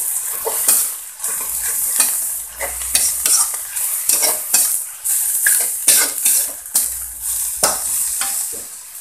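Water splashes into a hot pan for nasi gila, sending up a loud hissing sizzle while a utensil stirs and scrapes in repeated bursts, close and prominent with no voices.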